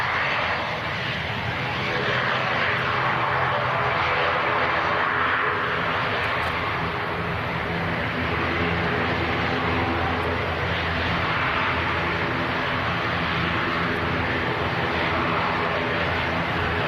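ATR 72 turboprop airliner at Leeds Bradford Airport, its engines giving a loud, sustained drone with a steady propeller hum that stays constant the whole time, heard from nearby.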